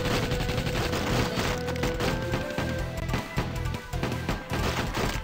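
A minigun in the Age of Zombies game fires a dense, continuous stream of rapid shots into a crowd of zombies and a wall, the bursts loud and close, running the whole time with no talk.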